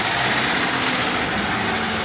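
A Mazda B2300 pickup engine runs rough after fifteen years of sitting, a close, steady buzzing idle with a faint uneven pulse and no voices.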